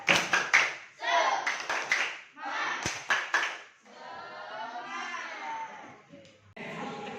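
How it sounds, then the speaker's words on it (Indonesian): Children in a classroom perform a rhythmic tepuk semangat clapping chant, bursts of patterned claps mixed with chanting young voices, then a stretch of shouted singing before the clapping resumes. "maka kita tepuk semangat terlebih dahulu"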